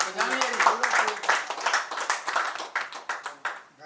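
Rhythmic clapping from a small group of people at a college commerce batch reunion, the claps fairly close and steady for several seconds, with a voice talking over the opening.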